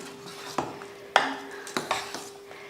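A ladle stirs cooked wheat sakkarai pongal in a metal pot, making a few sharp, close clanks and scrapes with short pauses between them.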